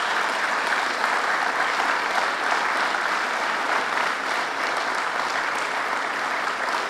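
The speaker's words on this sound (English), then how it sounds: "Let's give him another big round of applause." Sustained, dense applause from a large audience for the New York Governor at a public event in Schenectady, a steady wash of clapping that holds evenly for the full length with no talk over it.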